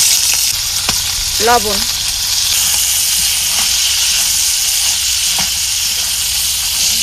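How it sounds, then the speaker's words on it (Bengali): Freshwater crabs from a marsh fry in hot oil with a steady, dense sizzle that holds close and loud throughout, while a voice briefly speaks over it. "এখন এই কাঁকড়াগুলোরে তেলে ভাজতে লমু।"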